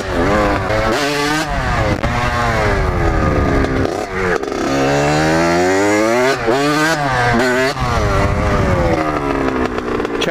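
A motorcycle engine revs loudly and continuously through a circle wheelie attempt, its pitch repeatedly climbing and dropping in sweeping surges with no pauses.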